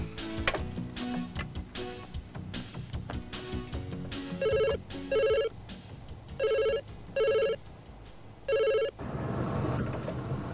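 A telephone rings in repeated short electronic bursts, five distinct rings separated by pauses, heard over a busy background of other sounds during a phone call.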